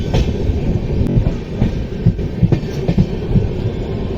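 Jan Shatabdi Express train number 12089 pulling into Tarikere station, a loud, close rumble of railcars with rhythmic clickety-clack of wheels over rail joints running steadily throughout.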